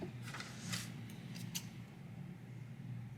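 Scissors snip crochet yarn close to the microphone, a few quick soft cuts early on against a quiet indoor hum, then stillness.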